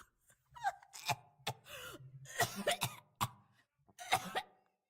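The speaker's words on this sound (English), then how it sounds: "In the darkness, some pony coughed." Several harsh coughs burst out close by in an irregular fit, mixed with a gasping breath and throat-clearing, then a final pair of coughs.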